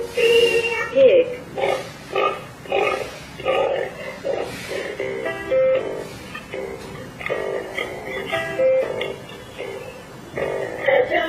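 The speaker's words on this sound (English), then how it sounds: "Pig." A tinny electronic Global Drone YS2604A kids' toy phone plays repeated short pig oinks and grunts in a bouncy rhythm, loud and close, mixed with a synthetic voice.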